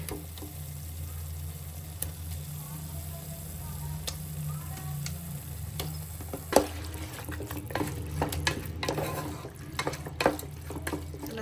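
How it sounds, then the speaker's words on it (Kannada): Chicken being stirred with masala and green chilli paste in a pan, with quiet spoon scrapes and clicks over a soft sizzle. "ಚಿಕನ್ ಜೊತೆ ಚೆನ್ನಾಗಿ ಮಸಾಲಾನ ಮಿಕ್ಸ್ ಮಾಡ್ಕೊಬೇಕು"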